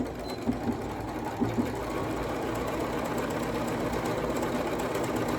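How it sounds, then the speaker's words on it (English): A sewing machine stitches quilt pieces together with a short stitch length, starting with a couple of soft thumps and then running as a steady, close, continuous whirring hum. "let's go ahead and sew this"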